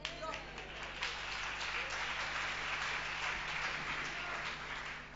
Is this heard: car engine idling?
no